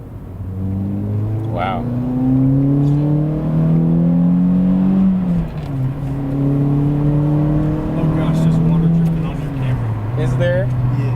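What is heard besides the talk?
Toyota Matrix XRS engine revving while accelerating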